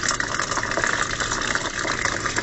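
Water from a row of Dutch buckets in an aquaponics system pours steadily into a 100 mm PVC pipe on the ground, a continuous close splashing gush that holds even throughout.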